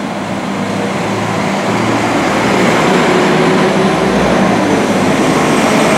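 Steady, loud rumble and roar from inside a moving Northern passenger train on the Calder Valley Line in West Yorkshire, continuous throughout.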